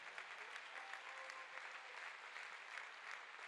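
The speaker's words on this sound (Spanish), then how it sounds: "Dele un aplauso al Señor en esta hora." Church congregation clapping in sustained, dense applause, a steady wash of many hands heard from a distance at low level with no voices standing out.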